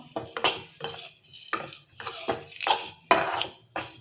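Eggs are turned through a masala gravy in a pan, with a spoon scraping and clinking against the pan in a steady series of short bursts, close by and without talk.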